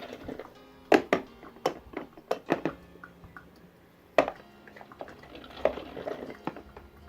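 Espresso poured into a mug from a DeLonghi Cafe Otello BCO90 machine, heard as scattered drips, clinks and splashes of liquid at close range, with a few sharper knocks, fairly quiet throughout.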